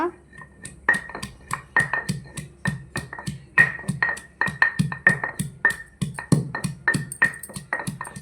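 Peeled garlic being pounded for a garlic chili powder: a steady, rapid run of sharp thuds with a faint metallic ring, close and fairly loud, continuing evenly throughout.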